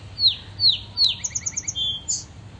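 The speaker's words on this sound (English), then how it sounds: "hello, song sparrow" Song sparrow singing in a front-yard food forest garden, a close, clear series of bright rising notes followed by a quick rapid trill and a final buzzy note, alone over a faint low hum.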